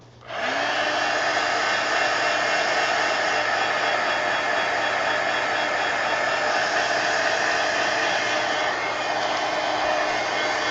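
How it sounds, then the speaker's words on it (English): A heat gun blasts over paper to dry it, starting abruptly and holding a loud, steady, close-up roaring whoosh without pause for about ten seconds. "Okay, heat gun."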